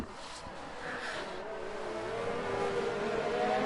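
Race cars in an F1 video game at Monaco, with Renaults and McLarens battling, give a steady high engine whine that climbs gradually in pitch and loudness.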